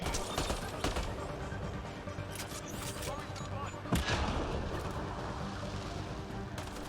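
Rapid bursts of weapon fire crackle throughout a firefight in Mass Effect: Andromeda, with sharp repeated shots at a fairly low level and a voice murmuring underneath.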